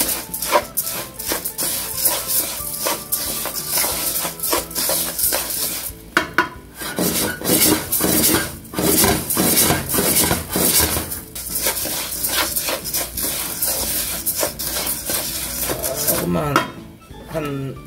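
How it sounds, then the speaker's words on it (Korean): Shiitake mushrooms stir-fried in a pan over a gas flame, a steady sizzle with repeated scraping and clinking of a utensil against the pan, close and continuous. "한 1분 정도만 더 볶으면 될 것 같습니다."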